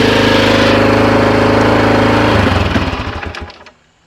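A loud engine on a cheap used vehicle runs at a rough, knocking idle close by, harder than it should, then sputters and winds down to a stop.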